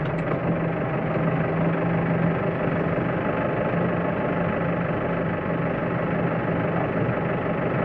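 A tractor engine runs steadily during bale fetching on a farm, a loud, continuous low rumble with even vibration close to the microphone and no pauses.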